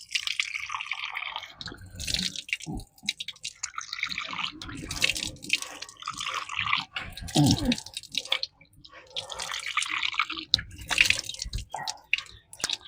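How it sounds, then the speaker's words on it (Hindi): Water splashes and drips irregularly as the face is washed three times during wudu, with intermittent pouring and dripping near and moderately loud. "चेहरे को धोना है 3 मरतबा इस तरीके से।"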